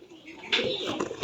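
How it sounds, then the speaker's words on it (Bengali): Pigeons coo indoors in a small loft holding about 40 to 50 pairs of mixed breeds that are feeding: a close, soft, throaty cooing that swells and repeats over a murmuring background. "অনেকগুলো কবুতর রয়েছে"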